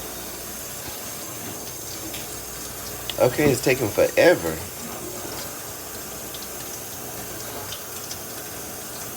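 A tap runs with a steady, even hiss from start to finish, and a person speaks briefly partway through.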